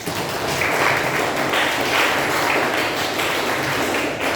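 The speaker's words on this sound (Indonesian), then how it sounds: "Maka kepada beliau kita berikan aplaus yang" An audience at a live national-character and state-defense socialization event claps, a dense continuous patter of applause lasting several seconds without speech.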